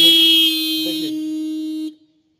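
A car horn sounds as a steady, loud buzzing tone, triggered by shorting across the horn fuse during wiring troubleshooting. It holds for nearly two seconds and then cuts off abruptly, with no talk over it.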